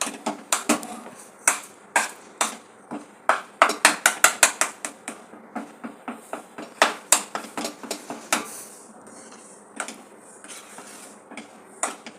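A spoon scrapes and clacks against a pot while thick wheat kurdai batter is stirred over a low flame, producing fast, irregular clicking strokes in bursts with brief pauses, close and distinct with no talking.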